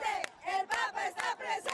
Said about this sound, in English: The crowd chants